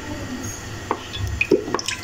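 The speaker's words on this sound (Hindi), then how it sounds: "अब डालते हैं ऑयल।" Cooking oil poured into a kadhai on a stove, heard as a few soft, close drips and light liquid splashes over quiet kitchen background.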